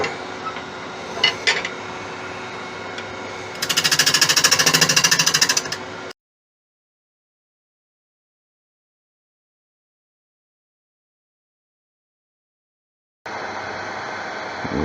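A gouge faces off a pale Malaysian acacia bowl on a wood lathe: a steady whirring drone, then a loud rough cutting burst of about two seconds, a sudden total silence, and the spinning drone resumes.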